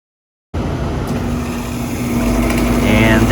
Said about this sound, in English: motor turns on, the fan is now spinning.